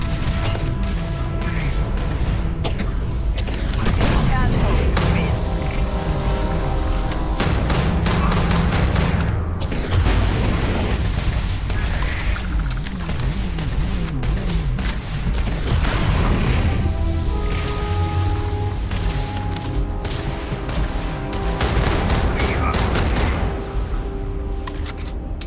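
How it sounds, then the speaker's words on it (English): Gunfire during a firefight in Starfield: Shattered Space, with repeated loud booming shots and bursts in the foreground, clanking mechanisms and layered combat noise that continue the whole time. "Not a fan of whatever that gun that one is firing."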